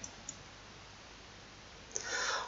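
Mouse clicks while working in Blender 2.8 software: a couple of faint, sharp isolated clicks near the start and another near the end, followed by brief soft rustling.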